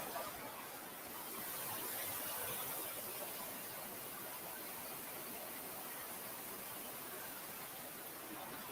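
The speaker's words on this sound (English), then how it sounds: "I love the sound of water." River flowing toward a waterfall, a steady broadband rush of moving water, soft and even, with no breaks from start to finish.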